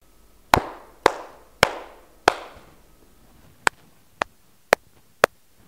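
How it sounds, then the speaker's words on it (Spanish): Hand claps sound first in an ordinary room and then in an anechoic chamber: four sharp claps ringing with a short reverberant tail, followed by four dry, clipped claps that stop dead with no tail. "Escucha la diferencia entre aplaudir en una habitación común comparado con cómo suena en una cámara anecoica"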